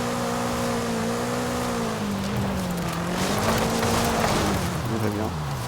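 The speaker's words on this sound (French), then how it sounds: "on part en drift avec la pluie." A BMW M5 drifting on a rain-soaked road in the racing game Forza Horizon 5, with a steady droning engine note and a wet, hissing tire wash that holds at constant loudness, while someone talks over it.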